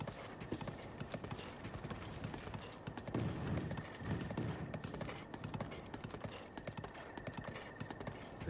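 Epona, a horse in the video game Zelda Breath of the Wild, gallops steadily with a rapid, even clip-clop of hooves, continuous and moderately close over a low rumbling ambient bed.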